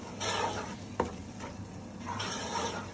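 Tomatoes cooking in oil and butter for a chicken curry, a steady close sizzle with stirring scrapes in the pan and a sharp utensil knock partway through.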